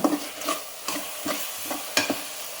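Onion and tomato sautéing in a pan for chicken biryani, a low sizzle broken by several spaced spatula scrapes and stirs, close and clear, with no speech.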